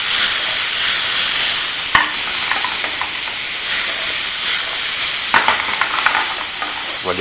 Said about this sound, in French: Je vais le mettre dans le wok. Voilà, et on va faire tourner les courgettes.